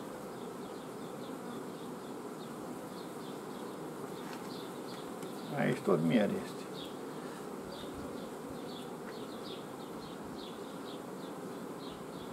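Honey bees buzz steadily in a beehive whose box is full of honey, a continuous dense hum throughout, with one person speaking briefly in the middle.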